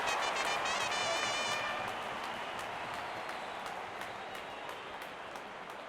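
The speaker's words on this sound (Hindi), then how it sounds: "जब अपोनेंट फैंस भी ताली बजा दे" Opposing cricket fans clap after a batter's six, dense applause loud at first with a whistle-like tone over it, then settling into steadier, softer clapping spread through a large crowd.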